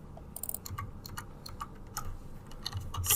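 Someone typing HTML on a computer keyboard: irregular quick clicks of the keys come in short bursts, fairly soft and close, with no voices.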